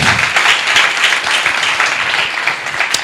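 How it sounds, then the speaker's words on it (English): Audience applause at a live talk session, a steady wash of clapping from a room of people that holds loud and even throughout, with a few sharper individual claps standing out near the end. "one more round of applause"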